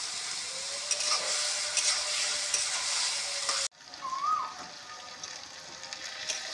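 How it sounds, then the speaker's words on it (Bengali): Banana flower and chickpeas sauté in a hot pan with a steady, close sizzle and faint stirring scrapes. The frying noise briefly drops out partway through, then resumes at a somewhat quieter level. "মোচাটা দিয়ে এবার একটু ভালো করে কষবো। আমি ছোলাটা দিয়ে দিচ্ছি।"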